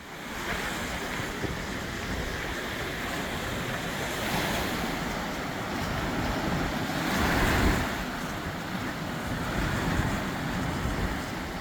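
Surf rolling in steadily at Sokcho beach on Korea's East Sea on a quiet autumn day, a continuous wash of breaking waves with wind buffeting the microphone, swelling slightly around the middle, no voices.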